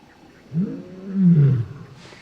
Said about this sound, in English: To listen to the lions roaring at that close distance.